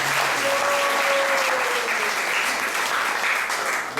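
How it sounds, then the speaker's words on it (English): Applause for devotees at an ISKCON temple in Atlanta during a Snan Yatra gathering, loud continuous clapping from a crowd with a faint tone gliding through early on. "So let's give a round of applause for the devotees also."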